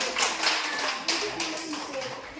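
A classroom of students clapping hands at a school teacher-training session, a short burst of scattered claps that is fairly faint and fades within a couple of seconds.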